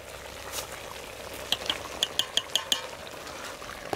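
Spoon scraping and clinking in a pot as salt and chili are stirred into mutton head curry, a quick series of six sharp metallic taps over a soft sizzling bed, close and clear.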